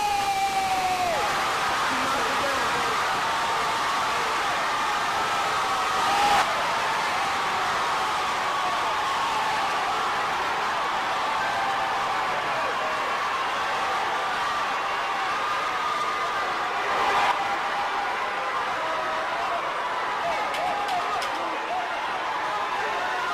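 Boxing match crowd at a woman's debut fight, a sustained roar of cheering and shouting that stays dense and steady throughout, with a couple of brief louder swells.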